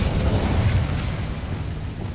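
A fiery Incendio spell bursts out in the Hogwarts Legacy video game: a loud, dense roaring whoosh that swells in the first second and then slowly fades, with no voices.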